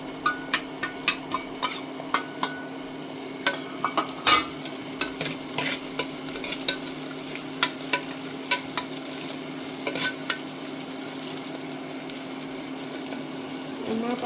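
Onion sizzling steadily in a pan with green chili and ginger, with frequent scraping clicks of a spatula stirring over a constant low hum.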